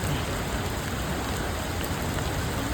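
Monsoon rain falling around the Athirappilly waterfall area: a dense, even hiss of rain that stays steady and fairly loud throughout, with no talking.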